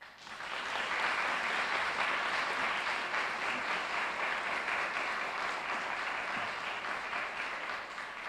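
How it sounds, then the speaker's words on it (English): An audience at a morning civic event in Milwaukee applauds steadily and evenly for several seconds, a dense wash of clapping with no voices over it. "Please give a round of applause again"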